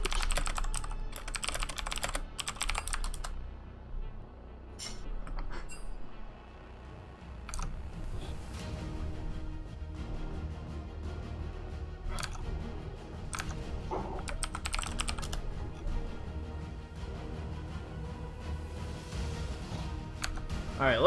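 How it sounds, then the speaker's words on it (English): Loud computer keyboard typing clatters continuously during a League of Legends tournament broadcast, dense rapid key clicks and thumps close to the microphone, with a few louder bursts and brief pauses. "My keyboard's freaking loud"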